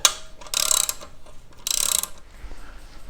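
Two quick bursts of ratchet clicking, close and loud, as a 12mm bolt on a Kawasaki Versys X300 motorcycle exhaust is loosened, separated by a short pause.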